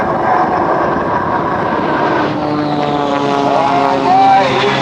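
An aircraft and the Shockwave jet truck race at the 2007 Rhode Island airshow, a loud, steady engine roar with a pitch that shifts as they pass, under excited commentary over a public-address system.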